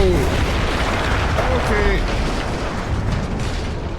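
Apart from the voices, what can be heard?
explosion in the video game Battlefield 1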